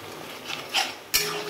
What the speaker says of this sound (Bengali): তো চলো এটা কষানো হোক